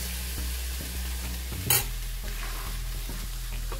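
Sliced onions sautéing in a pan for a chicken malai handi, a steady low sizzle with soft stirring scrapes and one brief sharp clink of a utensil midway, no voices.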